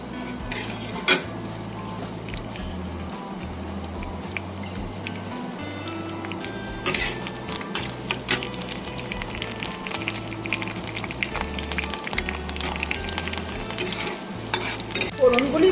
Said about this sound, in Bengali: এখানটায় তেল গরম হয়ে গেছে, ফোড়নটা দিয়ে দিলাম।